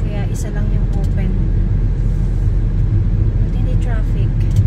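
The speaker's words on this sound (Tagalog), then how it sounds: "Traffic." Steady road traffic rumble near a construction zone by the Peace Bridge, where lanes are narrowed to one, with cars passing close and loud alongside the continuous engine and tyre noise, plus faint bird chirps.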